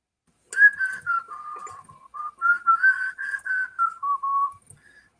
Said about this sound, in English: just because I whistled.